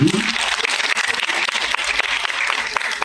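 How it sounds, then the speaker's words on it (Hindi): An audience at a Nepali poetry recitation event applauds, a dense, steady round of clapping that fills the whole moment without a break. "एकपटक फेरि तालीबाट सुरु गरौँ न कार्यक्रम।"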